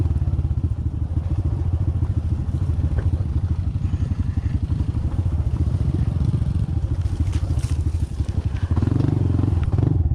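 A Honda CT125 motorcycle ridden along a rough trail, its mid-pitched engine thrumming steadily and loud from up close, with rattles and bumps over the terrain throughout.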